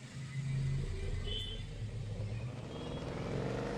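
Car engine revving in the video game Car For Sale, a low rumbling rev that rises then settles into a steady drone at moderate volume.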